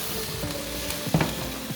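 Chicken searing in a pan for curry, seasoned with salt and turmeric: a soft, steady sizzle with a brief stirring scrape in the middle, close and faint.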